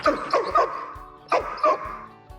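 A dog at a dog training academy gives about five sharp, close barks and yips in two quick clusters, loud and without any talking.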